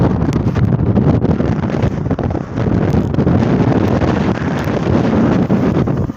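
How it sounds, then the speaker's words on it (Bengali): Strong gusting wind buffeting the microphone outdoors, a loud, dense low roar that surges and dips briefly, with no voices. "বাতাসে এত স্পিড বাতাস"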